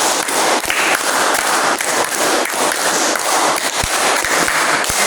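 A group of students in a teaching class claps together in a counting drill, producing loud, dense clapping with sharper claps standing out at intervals.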